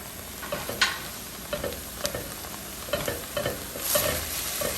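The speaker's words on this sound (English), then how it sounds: "Okay, give it a good stir." Mushrooms and onions cook in a pan with a close, steady sizzle. A spoon stirs them in a rhythmic series of scrapes and knocks, roughly every half second.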